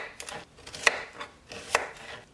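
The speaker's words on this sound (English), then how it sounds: "So I'm going to cut into smaller pieces," Crookneck heirloom squash cut into smaller pieces on a board, several soft knife strokes with two distinct sharper chops, quiet and close, no voices.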